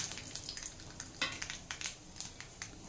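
Mustard seeds, cumin, urad dal and chana dal crackle in hot oil while being stirred, giving faint sizzling with scattered sharp pops and spoon scrapes, no speech.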